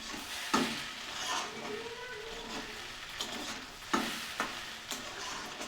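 Boiled potatoes fry in a pan with a steady sizzle, broken by several sharp scrapes and clinks as a utensil stirs them.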